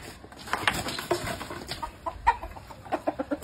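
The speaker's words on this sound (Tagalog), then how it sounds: "tingnan mo yung manok mo." Fighting rooster clucking close by in a short series of soft, irregular clucks, a few sharper calls standing out toward the end, with no talk.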